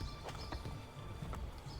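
Horse hooves clip-clopping in the video game Assassin's Creed Brotherhood, a quick run of rhythmic clops over dense game ambience.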